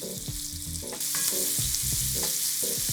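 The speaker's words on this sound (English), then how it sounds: "So add our bacon. I'm just gonna kind of break this up a little bit so that we get more surface area and we get more browning happening." Bacon fries in a pot with a bright, constant sizzle, and utensil scrapes and taps break it up as the pieces are stirred apart. The sizzle gets louder partway through.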